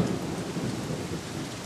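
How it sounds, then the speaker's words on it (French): Cartoon storm effect of thunder and strong wind: a dense, steady roar of rain and low rumbling fills the short stretch evenly, with no voices. "Il y a une tempête et un vent très fort."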